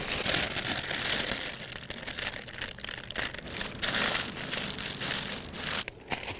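Masking tape being torn and pressed around a wheel during Plasti Dip prep, a continuous close crinkling and ripping noise with brief sharp tears and a short pause near the end.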